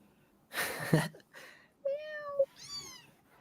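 A brief noisy burst, then two distinct kitten meows, one long and steady, the next higher and shorter, heard close and alone.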